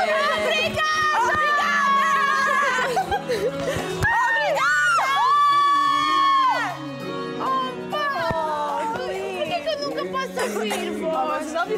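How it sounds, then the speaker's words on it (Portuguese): Young girls shout and call out excitedly in a lively group, high voices overlapping in loud cries and chatter that carry on almost without pause. "Eu vou gritar por ela!"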